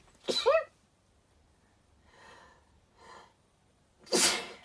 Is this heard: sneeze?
yes